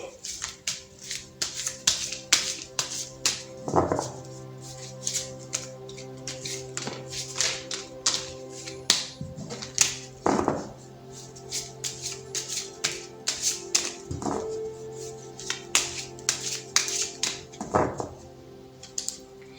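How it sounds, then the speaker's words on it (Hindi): Tarot cards are shuffled by hand in a long series of crisp riffles, snaps and taps at close range, with steady tones sustained underneath. "तो चलिए पहले ज़रा कार्ड्स को शफल कर लेते हैं"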